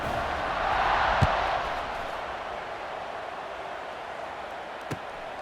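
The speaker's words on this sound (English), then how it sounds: "this crowd is feeling themselves after that last drive" A stadium crowd at a Texas A&M at Nebraska college football game makes a broad, distant roar that swells and then settles, with two sharp knocks breaking through.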